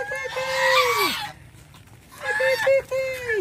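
Cartoonish chicken clucks from a farm-style video game, two bursts of squawking calls with a brief quiet gap between them, close and fairly loud.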